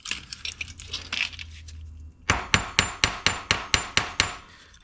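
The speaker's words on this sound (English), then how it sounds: "you're supposed to use the ball peen hammer to do this, which is what this is, but this is a really small one" A small ball peen hammer strikes during a Vespa P200 rebuild: a few light taps come first, then about nine sharp, evenly spaced metallic blows ring out close and loud, with no talking.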